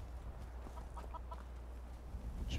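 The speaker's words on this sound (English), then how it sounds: "Chickens." Chickens cluck softly in the video game Skyrim, a few faint short clucks in the middle over a low steady background hum, quiet and somewhat distant.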